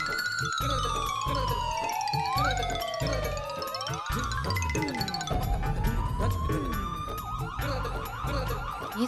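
A wailing ambulance siren sweeps up and down in pitch without a break, loud and close, as an emergency vehicle arrives at a residential housing society.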